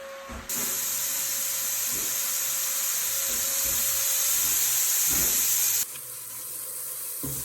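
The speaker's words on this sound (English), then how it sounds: "I've been sauteing the veggies for about 3 to 4 minutes" Vegetables sauté in a pan with a loud, steady sizzling hiss that starts abruptly, runs for several seconds with a few soft knocks beneath it, then drops to a quieter sizzle.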